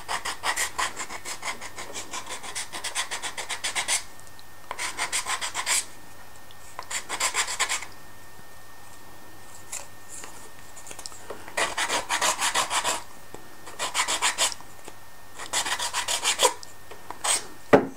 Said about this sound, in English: You can also do it with a sanding block.